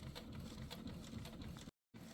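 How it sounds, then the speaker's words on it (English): A Canon G6020 ink tank printer running, a continuous close mechanical whir with rapid rhythmic ticking, cut by a short silent gap before resuming. "And here's my wonderful high-tech printer. It is a Canon G6020."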